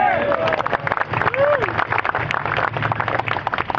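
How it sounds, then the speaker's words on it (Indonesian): A crowd at an Indonesian gathering breaks into applause, a dense stream of claps and cheers lasting several seconds, with voices calling out above the clapping. "Aplaus dulu."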